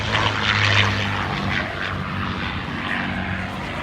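A propeller airplane drones overhead at a beach air show, a steady, loud engine hum with a low throbbing tone that swells briefly before leveling off, with no talking.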